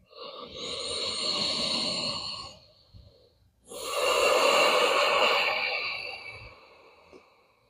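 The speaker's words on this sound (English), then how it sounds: "Nice, slow, relaxed breathing." Slow, relaxed breathing during a yoga class, two long broad airy breaths, an extended exhale then a deeper, louder one after a short pause, close to the microphone with no talking.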